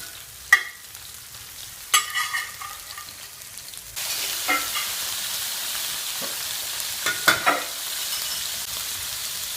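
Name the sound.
seafood frying at high temperature for paella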